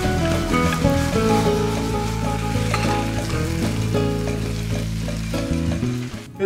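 Onion caramelizes with balsamic vinegar in a pan, a loud sustained sizzle and bubbling that runs evenly to the end without speech.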